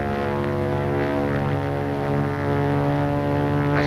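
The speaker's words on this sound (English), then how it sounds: "I saw something. Another plane." A propeller airplane in flight, heard as a steady droning engine hum with a strong low tonal buzz, continuous and fairly loud with no voices.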